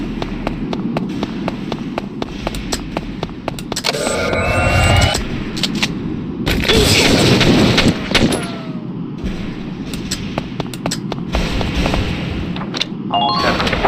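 Gunfire from the Valkyria Chronicles battle game, with sharp rifle shots and bursts of automatic fire rattling steadily throughout, plus heavier booming impacts in the middle, loud and close without any speech.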